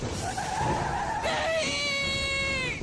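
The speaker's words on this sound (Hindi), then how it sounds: "ट्रेन ऐसी तेज आवाज करते हुए रुकी जैसे कोई चलती हुई गाड़ी रुकती है" A train brakes to a halt with a shrill, ringing metallic screech of sustained high tones that rises sharply partway through and holds steadily.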